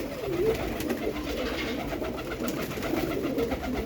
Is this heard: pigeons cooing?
yes